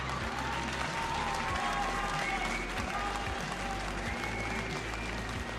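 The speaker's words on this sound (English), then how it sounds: "Let's get a round of applause," Applause sound effect played during a Star Citizen livestream: a steady burst of crowd clapping and cheering holds at an even level for several seconds.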